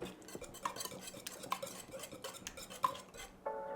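Egg and cheese being mixed into waffle batter, a utensil scraping and clinking against the bowl in a steady rhythm of close, moderately quiet strokes with a few sharper clicks.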